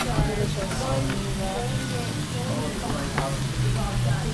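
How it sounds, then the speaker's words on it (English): A hot dish sizzles loudly as it is served at a restaurant, with continuous frying crackle close by and people talking over it. "This could be our food coming because I hear sizzling."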